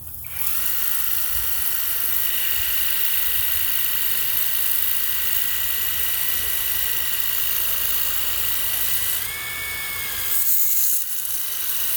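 A Worx Hydroshot cordless pressure washer fitted with a turbo nozzle and short lance sprays a patio, giving a steady, loud hissing rush with a faint motor whine that changes pitch briefly near the end.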